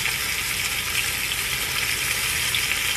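Spinach sizzles steadily in a hot frying pan as it is stirred, a dense, continuous crackling hiss close by with no talking.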